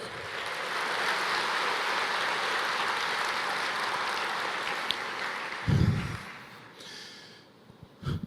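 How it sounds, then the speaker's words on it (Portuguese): A church congregation claps in a dense, continuous patter that slowly fades, followed by a brief thump and scattered softer noises as the clapping dies away. "Você pode aplaudir o Senhor e dizer: eu creio"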